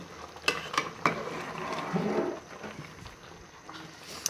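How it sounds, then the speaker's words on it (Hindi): A spoon stirs achari chana pulao rice gently in a pot, giving soft scraping and light sizzling with a few sharper clinks against the metal, close and moderately loud, with no talking. "चम्मच हमने आराम आराम से हिलाना है ताकि हमारे चावल जो हैं वो टूटे नहीं"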